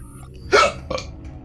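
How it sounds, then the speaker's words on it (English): A single sharp hiccup-burp bursts out close to the microphone, followed by a smaller second catch of breath, loud and abrupt against a quiet room during a video game session. "Ah, I hate hick burps."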